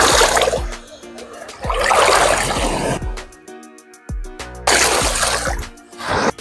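Sea water at Varadero beach in Cuba washes and splashes around a person wading in, with bursts of sloshing surf alternating with quieter trickling moments, close and fairly loud.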